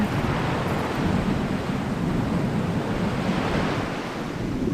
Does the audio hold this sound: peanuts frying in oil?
no